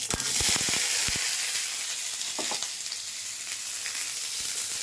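Mustard seeds crackle and sizzle in a small amount of hot oil for a sour mango dish, opening with a burst of sharp popping that settles into a steady close hiss, with scattered later pops and no voices.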